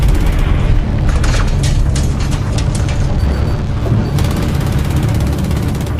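A shot-down missile explodes in an action film, a loud continuous roar of blast and rumble with crackling bursts throughout, steady and heavy from start to finish.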